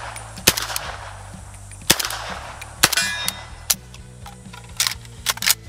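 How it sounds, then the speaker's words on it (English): A 9x39 AK rifle fires subsonic ammunition unsuppressed, several sharp, close shots spaced irregularly, with clinks of metal between them. "we're gonna shoot this a little bit unsuppressed"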